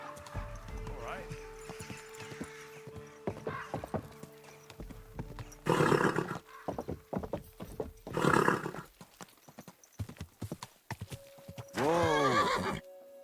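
Horse in the medieval game Kingdom Come Deliverance II, with steady clip-clop hooves and several loud whinnying neighs, the last one long and close, while someone speaks calmly and game music plays underneath.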